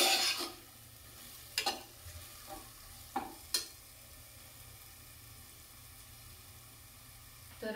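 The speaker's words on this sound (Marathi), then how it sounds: "तर आता सगळं मिक्स करून घ्यायचं आहे।" Faint stirring of khichdi with spices in a pot over a low sizzle, a few soft knocks and scrapes of the spoon against the vessel, quiet and close with no speech.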